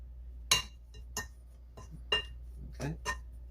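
A spoon or whisk clinks against a bowl while sugar, baking powder and salt are stirred together for a grits cornbread batter: about six sharp, irregular clinks close by over a low steady hum, with no talking.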